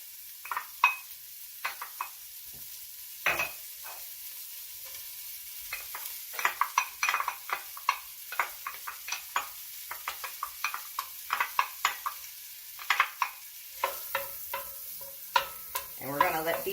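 Chopped large yellow onion sautés in a pan with a soft constant sizzle, broken by frequent sharp clicks and scrapes of a utensil stirring, close up and without voices.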